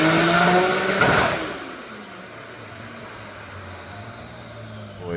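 A built Toyota 2JZ engine screams at high revs on a dyno pull for about a second, then drops off into a steady lower whine and rumble as the run winds down, loud and close with no talk.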